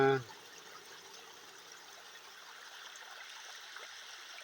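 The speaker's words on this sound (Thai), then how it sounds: "น้ำตก ผาหินงามก็มี น้ำไหลลงมา" A soft, steady rush of waterfall water flowing at Pha Hin Ngam waterfall, Chae Hom, Lampang, Thailand, continues in the background after a brief voice at the start.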